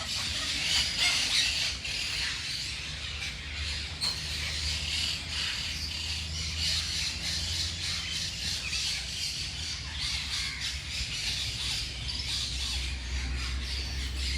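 Peacocks in a Hambantota bird park call with a steady run of squawks and chirps at moderate distance, with insect-like buzzing beneath and no clear pause.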